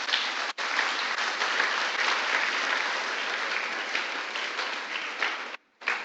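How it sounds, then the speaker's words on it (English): Participants at a youth development launch event in Ghana clap for themselves in steady, dense applause that runs nearly throughout, with brief cuts to silence partway through and near the end. "Let's give yourselves a clap."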